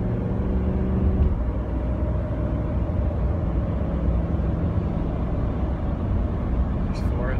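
A 2006 Ford F-150 pickup truck with a 5.4 engine drives steadily down the road and shifts into fourth gear, with a continuous broadband engine and road drone heard from inside the cab.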